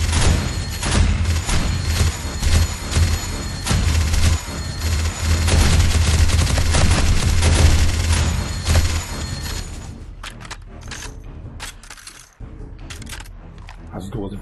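Violent gunfire in the video game War3zuk, dense bursts of automatic shots and thuds packed together for about ten seconds, then dropping to sparser, quieter shots.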